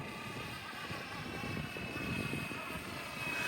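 A Flywing BO105 RC scale helicopter flies outdoors in wind, its rotor and motor giving a steady, fairly faint whirring drone that holds even throughout, with no talk over it.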